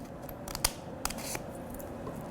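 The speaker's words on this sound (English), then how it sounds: "if I cut this a little bit more now" Surgical scissors trimming mesh during an inguinal hernia repair, a few quick, crisp snips spread across a couple of seconds, close but soft, over a faint steady room hum with no talking.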